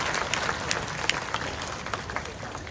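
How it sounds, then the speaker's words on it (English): An audience at a Taronga Zoo seal show breaks into a round of applause, a dense, even patter of many hands clapping at moderate distance that carries on steadily throughout. "let's give her a big round of applause"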